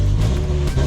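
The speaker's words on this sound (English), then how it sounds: "car a V10, that sounds amazing" A BMW M6 with a V10 engine runs steadily up close, a deep continuous drone with low harmonics and slight swells, heard at a dealer car auction in Florida.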